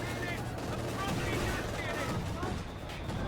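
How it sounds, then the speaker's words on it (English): Anti-tank gun firing on a light armored car in the Company of Heroes 2 battlefield, dense overlapping gunfire and blasts sustained throughout amid continuous combat noise. "222 taking some shots from the AT gun"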